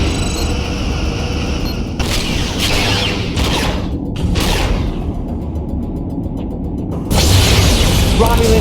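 A Romulan ship blowing up in the Star Trek Legacy space combat game, with loud booming bursts and whooshing blasts over a dense rumbling game soundscape, the blasts swelling again near the end.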